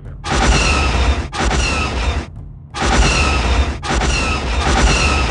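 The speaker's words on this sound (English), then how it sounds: "Firing all cannons." Spaceship cannons fire in a Star Wars stop-motion battle: two long, loud bursts of sustained booming and crackling barrage separated by short gaps, filling the scene with no voices over them.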